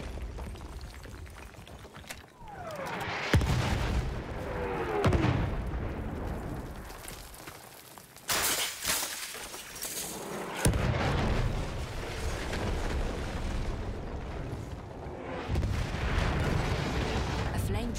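Enemy artillery barrage in Battlefield 1, heavy booms and explosions landing repeatedly across a battlefield with loud crashing impacts and rumbling aftermath, game voice callouts heard between blasts.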